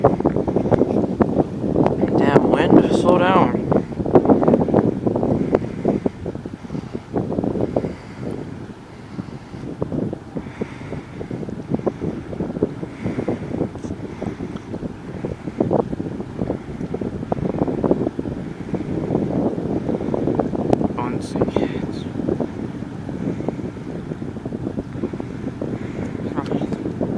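Strong wind buffets the microphone outdoors by a lake next to a railway, with a continuous loud rumble rising and falling in gusts, while someone speaks briefly over it.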